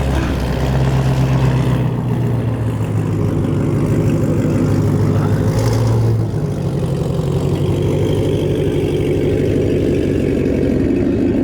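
Straight-piped 2020 Shelby GT500 idling at a dyno, a loud, deep, continuous rumble that barely varies in level throughout, close by and with no talking.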